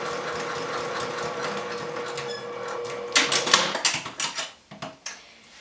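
Sewing machine stitching across the top edge of a bag, a steady mechanical whir running continuously, then breaking into short stop-start bursts of stitching near the end.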